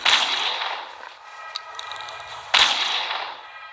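Two sharp gunshots from the horror game Motherbirb, each with a bright cracking blast and a ringing tail, about two and a half seconds apart, alone.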